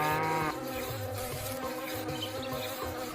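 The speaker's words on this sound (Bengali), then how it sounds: "আর প্রচন্ড পরিমাণে মশামাছি রয়েছে এখানে, যার কারণে গরুটাকে কামড়াচ্ছে।" Flies and mosquitoes buzzing around a cow in a video game, a steady droning hum with wavering tones, loud and close, continuing throughout with no voices.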